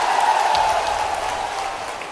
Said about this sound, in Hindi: पिछोर की ताली बजा दो एक बार